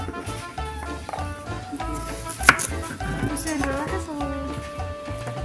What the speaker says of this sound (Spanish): aquí estamos picando lo que le vamos a echar a lo que es el caldo